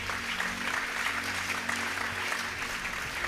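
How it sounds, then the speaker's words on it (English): Audience at a tech career panel applauds a panelist named John, a steady, dense wash of clapping from many hands lasting a few seconds, with a low hum underneath and no talking. "A round of applause for John."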